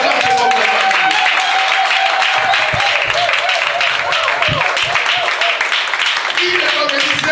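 Church congregation applauding and cheering the patriarch, a loud, steady wash of clapping from a large crowd with voices calling out over it throughout.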